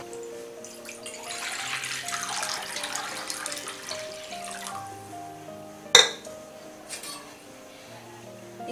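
Water pouring into a vessel while making pani puri water, a steady broadband splash over background music, with a sharp clink of a utensil near the middle.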